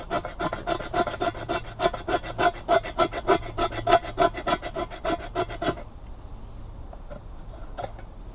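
A knife blade rasps against a piece of fatwood outdoors, in quick rhythmic strokes for about six seconds before it stops, leaving faint background sound.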